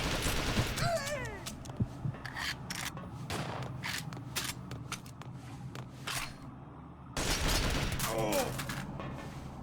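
Gunfire crackles in the shooter game Perfect Dark Zero, rapid sharp shots in irregular bursts over mechanical clatter and game effects, with voices speaking in places between volleys.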